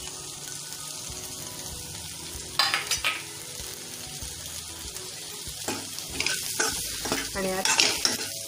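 Stuffed brinjals being stirred and sautéed in oil with onion-garlic masala for Maharashtrian bharli vangi, a steady sizzle with scraping stir strokes; brief speech opens the clip.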